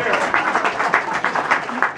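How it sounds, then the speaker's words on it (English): A banquet crowd gives a round of applause for unknown deer hunters. The clapping is dense and rhythmic and close by, with voices mixed in. "let's give those unknown hunters a round of applause"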